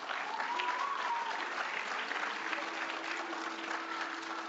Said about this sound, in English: we could applaud that